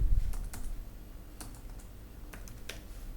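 Keys clatter on a computer keyboard in short, irregular bursts, close and fairly crisp, with no one speaking.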